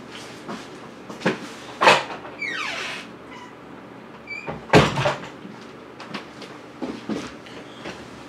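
A door opens to let a cat in, with a few distinct knocks and clunks plus a creaking scrape, moderately close against low background hum.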